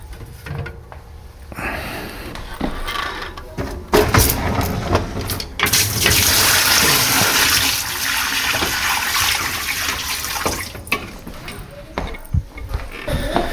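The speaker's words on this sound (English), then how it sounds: "Let's pour some water in," Water is poured into a dishwasher with a drain-pump problem, giving a rushing, splashing flow that swells partway through and stays fairly loud, mixed with intermittent clunks and a brief voice.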